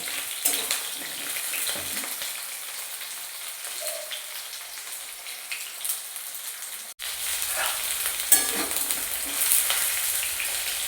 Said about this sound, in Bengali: পেঁপেগুলো একটু ভালো করে হালকা ভেজে নেবো।